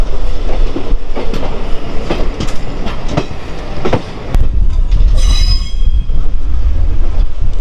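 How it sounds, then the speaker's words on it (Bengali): A train rolls into the platform at Kamakhya station, its loud rumbling wheels clattering over the rails, with a sharp metallic wheel squeal rising near the end, heard close from on board. "আমাদের গন্তব্য স্টেশন কামাখ্যা চলে এসছে সামনে, জাস্ট প্ল্যাটফর্মে ঢুকছে"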